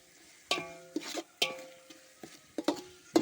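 Masala for Malabar biryani is cooked in a pan, with a spoon scraping and clinking against the metal in sharp, irregular strokes about every half second over a faint sizzle.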